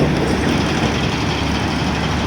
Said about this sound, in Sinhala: ඔය එන්නේ මෙට්‍රෝ